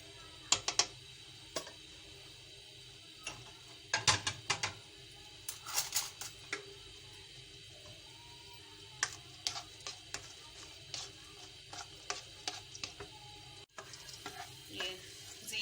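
Whole cumin seeds and black peppercorns crackling in mustard oil in a kadhai, a soft low sizzle under scattered spoon scrapes and taps against the pan, fairly quiet and close, without speech.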